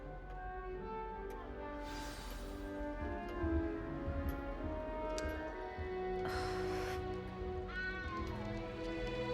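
In the video game Hogwarts Legacy, a cat meows repeatedly in drawn-out, wavering cries, close and clear over a steady background hum for about nine seconds.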